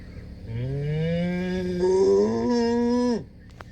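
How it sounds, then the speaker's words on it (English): A cow lets out one long, drawn-out moo lasting nearly three seconds, rising slightly and then cutting off abruptly, loud and fairly close with no talking over it. "Cow, Cow."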